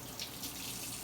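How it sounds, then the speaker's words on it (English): Tap water runs steadily into a sink while mushrooms are rinsed under it, a continuous close hiss with no speech. "I don't mind rinsing some of these mushrooms off."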